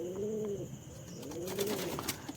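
Semi-adult pigeons at a pigeon farm in Maslandapur, India, coo softly nearby in two low, rolling phrases, with faint rustling and a few light chirps in the background.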